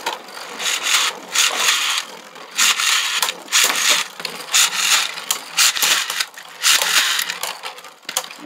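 Nightmare Longinus and Cho-Z Achilles Beyblade tops spin and clash in a stadium, giving bursts of scraping, rattling friction that surge and drop in uneven waves, close and fairly loud, with no talking.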